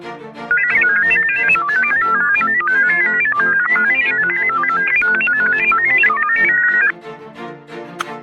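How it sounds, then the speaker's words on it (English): A dial-up modem handshakes over a telephone line, giving a loud, continuous run of warbling electronic tones that shift rapidly in pitch for several seconds before cutting off abruptly. "That's the sound of a dial-up modem performing a handshake to connect to the internet over telephone lines."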